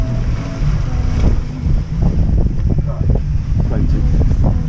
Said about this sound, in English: You can see the streaks on the water showing you how fast the wind is blowing.